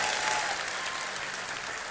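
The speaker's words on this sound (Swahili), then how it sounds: "Tupigie Mama Mwangi makofi sana." An audience gives steady, loud applause for Mama Mwangi, a continuous wash of clapping with no pauses and no voices.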